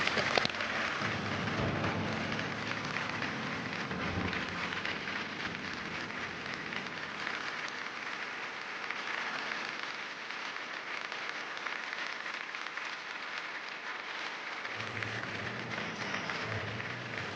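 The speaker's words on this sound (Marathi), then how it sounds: "काल रात्रीपासून बरसणारा पाऊस काय सांगतोय कोण जाणे" Steady heavy rain pours down without a break, a dense even hiss that lasts throughout, with a slight low rumble near the end.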